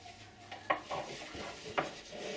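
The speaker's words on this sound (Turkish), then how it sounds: "Zor mu kızım bulaşık yıkaması?" A child washes dishes in a sink with a toy dishwasher nearby, making soft clinks of dishes and cutlery over running-water rustle, with two sharper clatters standing out close by.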